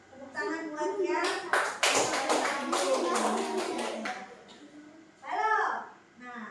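Children in a classroom clap their hands together in a brief burst of quick, close claps, mixed with lively young voices chattering, then a short cheer-like shout near the end.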